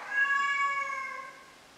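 A house cat gives a single drawn-out meow, clear and close, with no talking over it.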